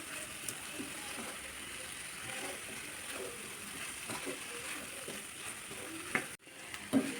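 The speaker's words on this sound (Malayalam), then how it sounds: "നന്നായി ഒന്ന് മിക്സ് ചെയ്തെടുക്കാം." Cauliflower being stirred into masala in a pan, a soft scraping and sizzling with faint clinks, quiet and steady, with a sharp knock near the end.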